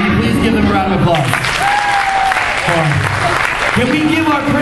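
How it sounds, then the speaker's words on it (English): An audience at an afterschool celebration gives a round of applause, loud sustained clapping and cheering throughout, with voices and shouts mixed in. "Can you please give them a round of applause?"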